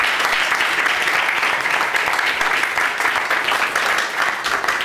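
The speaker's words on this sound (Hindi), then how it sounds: "खुदा उनके जवाब के लिए जोरदार तालियां बजा दें।" A church congregation at a Sunday service claps loudly and continuously, a dense, sustained roar of many hands that fills the room without letup.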